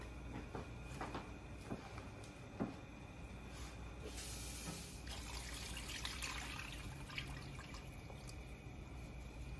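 Water poured into a pot of Liberian pepper soup with pig feet, meat skin and stockfish, a soft continuous trickle and hiss with a few small clinks, faint and steady without talk.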